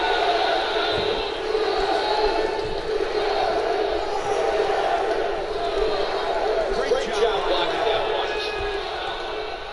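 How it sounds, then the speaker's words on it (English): Arena crowd in the UFC 2 video game cheering and roaring during a fight, a dense, steady wall of massed voices and chants that holds loud throughout. "Crowd trying to hype up their man here tonight."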